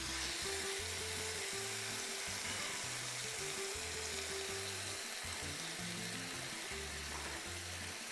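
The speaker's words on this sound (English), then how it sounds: "Ooh, hear the sizzle?" Chicken frying in a pan, a steady, even hiss of sizzling fat and juices, close and continuous, with a low tonal hum underneath.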